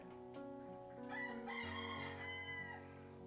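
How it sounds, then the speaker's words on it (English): A rooster crows once in a full, drawn-out cock-a-doodle-doo, faint and somewhat distant, in an outdoor setting in Bali. No one speaks over it. "Did you hear the rooster?"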